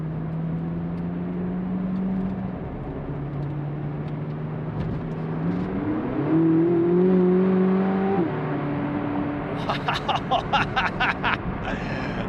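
Sports car engine accelerating from up close, the pitch climbing through gear steps in long rising sweeps, loud and continuous, with short popping bursts near the end.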